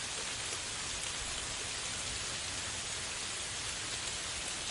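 Steady, heavy rain pours down continuously, a dense even hiss of drops with no pauses or other sounds.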